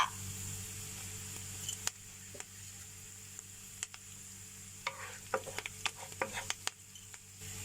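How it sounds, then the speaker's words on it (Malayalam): Curry leaves dropped into hot shallots frying for puli inchi, a low steady sizzle with scattered crackles and spatters that grow busier toward the end, plus occasional stirring clicks, quiet and close. "ഉള്ളി ചൂടാവുമ്പോ അതില് കരിവേപ്പില ഇടുക"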